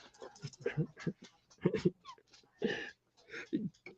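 An excited dog pants and whimpers close by in a home setting, with rapid breathy huffs and short whiny sounds coming in uneven bursts.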